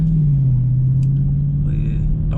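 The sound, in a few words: Dodge 2020 Scat Pack car engine revving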